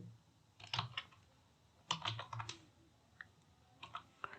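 Keys tapping on a computer keyboard while a label is typed at an MS-DOS command prompt, heard as a few short, close clusters of crisp clicks with gaps between them in a quiet room.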